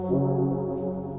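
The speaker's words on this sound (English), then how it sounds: "This is where it got a little fun for this low pluck." A deep synthesizer pluck plays low, sustained notes with a warm, rounded tone and a slight bright tick near the end.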